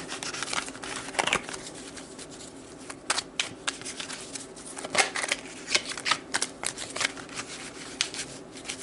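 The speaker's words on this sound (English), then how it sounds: "let's pull some tarot cards to see how this energy is playing out in May" Slick tarot cards being shuffled up close, a steady run of quick riffling bursts and soft slaps with brief pauses between, with no talking.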